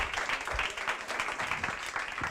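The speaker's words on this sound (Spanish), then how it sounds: "Un aplauso fuerte para Rufino" A seminar audience at a training school event gives a loud, dense round of clapping that carries on evenly throughout, with no voices standing out over it.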